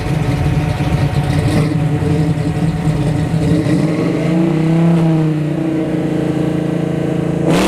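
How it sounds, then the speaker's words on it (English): A supercharged drag race car revs hard at a dragstrip test-and-tune session, its blower-fed engine droning loud and steady throughout, with pitch swells and a rising sweep near the end. "Can you hear that blower?"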